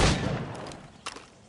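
A single loud gunshot fired at targets in Assassin's Creed Rogue, a sharp blast that decays into a rumbling tail, followed by a softer mechanical click about a second later.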